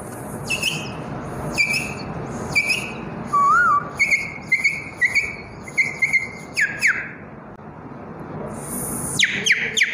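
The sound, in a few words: man imitating a koel's call by whistling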